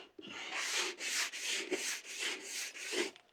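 Hand sanding on cedar wood: a rhythmic back-and-forth scratchy rasp, about six even strokes in a few seconds, close and fairly loud.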